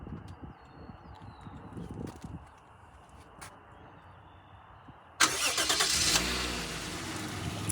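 A 1997 Toyota Crown Royal Saloon with a 1JZ engine cranks briefly and catches via remote start, settling into a smooth steady idle after quiet ambient noise and a few faint clicks.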